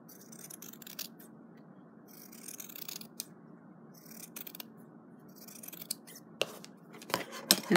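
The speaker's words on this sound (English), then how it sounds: "just going to cut the linen off so that we've got our semicircle there" Scissors cut through linen fabric along a traced semicircle, giving a close, quiet run of crisp snips and rasping slides that grow louder and sharper toward the end.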